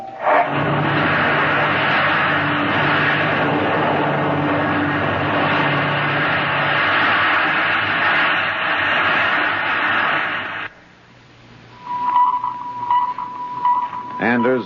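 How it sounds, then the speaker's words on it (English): A rocket blast-off roar in a radio drama plays as a loud, sustained rushing rumble that cuts off abruptly, followed by quieter sounds with a steady electronic tone. "Countdown for blast off."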